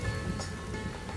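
Rain falls in a steady, soft patter of many fine drops on a surface, faint and even throughout the short stretch, without voices.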